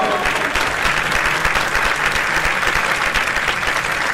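A dense crowd applauds steadily after a flash mob performance by the Silesian Opera choir, the clapping loud, close and continuous with no pauses throughout.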